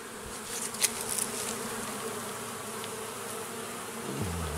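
Honeybees flying around their hive, a continuous close buzzing drone of many insects, steady and fairly loud with no talking.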